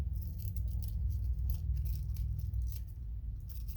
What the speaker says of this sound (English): come in with my scissors, and we'll cut that off